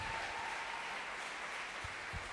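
A church audience applauding, a dense, even wash of clapping heard from a short distance that holds steady for a couple of seconds without voices.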